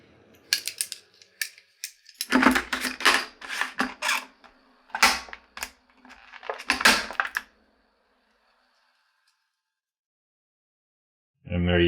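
Cardboard packaging for a Ulanzi PT-2 dual cold shoe mount, held shut with a single staple, is pried open. Close crinkles, clicks and scraping bursts come in quick clusters, then the sound stops into silence.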